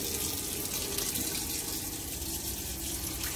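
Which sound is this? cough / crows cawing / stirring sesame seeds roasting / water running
water running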